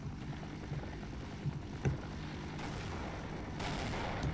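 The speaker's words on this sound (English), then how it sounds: "we blow that door open with the cannon" Cannon blast from the Half-Life video game blowing a door open, heard as a short muffled boom partway through, followed by a louder rush of noise over a steady game background.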